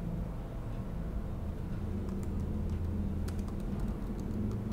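Computer keyboard typing while entering whiteboard text in a Zoom meeting, a few soft scattered key taps over a steady low hum, fairly faint and not close.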